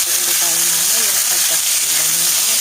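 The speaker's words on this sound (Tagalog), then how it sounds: "Habang nagigisa tayo ng chicken, lagyan na natin ng sauce para mas malasa yung ating chicken" Chicken sautéing in a pan with sauce added, giving a steady close broadband sizzle and hiss throughout, while a voice talks over it.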